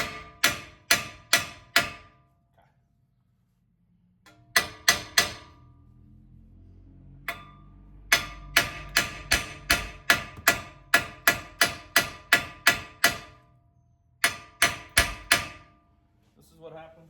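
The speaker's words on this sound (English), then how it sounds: "So I'm gonna go ahead and finish hammering this." A hammer pounds a rusted front wheel bearing on a 2013-2020 Ford Fusion, sharp metallic blows in fast bursts of several strikes separated by short pauses, close and loud.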